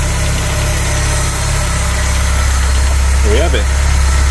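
A VW Polo 86c carburettor engine with an automatic choke idles steadily and close by, a loud, even low rumble with light vibration and a brief whine, while someone speaks briefly over it.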